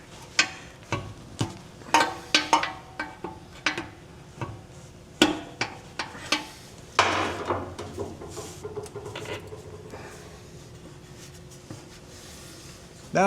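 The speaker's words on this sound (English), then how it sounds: "just going to use my pry bar and get that popped loose" Pry bar working a muffler hanger loose during a trailer hitch install on a 2026 Kia Carnival Hybrid, a series of sharp metallic clicks and knocks in an uneven rhythm, close up, then a louder scraping pop.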